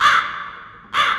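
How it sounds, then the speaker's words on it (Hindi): A crow caws twice at night near a hotel, two loud, harsh, close calls separated by a short pause. "कौवे के बोलने की आवाज़ आई"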